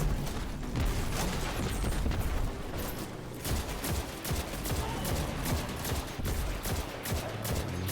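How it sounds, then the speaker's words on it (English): Weapons fire in Destiny 2, with grenade launcher shots mixed into a loud, busy barrage of repeated blasts and mechanical clatter that continues throughout. "I'm terrible at shooting grenade launchers."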